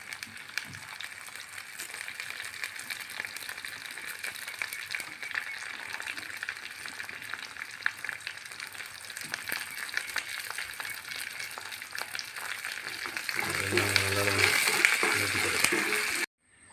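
Green chillies and curry leaves frying in oil for a pickle, a steady close crackling sizzle that grows louder and busier near the end, with no one talking.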